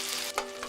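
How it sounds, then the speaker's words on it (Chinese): Giant freshwater prawns pan-frying in hot oil, giving a steady, close sizzle with a brief stir or clatter partway through and no voices. "冷鍋下油燒熱，放入羅氏蝦油煎，至焦黃撈出"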